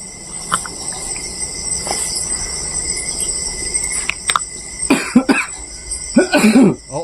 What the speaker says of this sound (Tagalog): Umubo na. Suminyas na ng ubo.